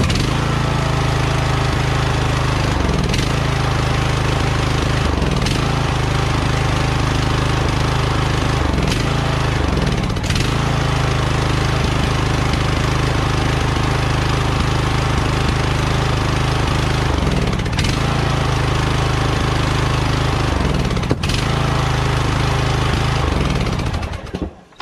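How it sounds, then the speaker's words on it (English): Riding lawn mower engine running loud and steady for the whole stretch, with its faulty brake safety switch making it labour and sag repeatedly, the note dipping as it nearly stalls, then recovering. "When I take my brake off of there, it wants to stall the engine."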